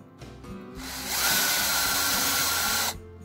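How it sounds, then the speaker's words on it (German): A power drill bores a hole through knife handle scales, starting with a few short bursts and then settling into a loud, steady high whine for about two seconds before stopping. "dann kommt der Bohrer und immer festklemmen bitte"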